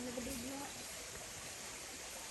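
Creek water flows steadily in an Appalachian stream, a soft continuous wash from the calmer edges away from the fast current, with a brief voice at the start.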